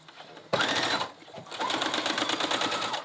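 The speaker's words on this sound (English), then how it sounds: "I'm going to back stitch too." A sewing machine runs in two bursts while stitching a fabric gift bag, a brief whir followed by a short pause and then a longer steady run of rapid needle clatter, close and fairly loud with no talking.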